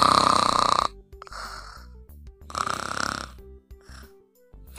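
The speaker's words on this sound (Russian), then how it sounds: "хватит храпеть" A person snores loudly and close by in a bed, with two long rasping snores separated by quieter breaths and grunts.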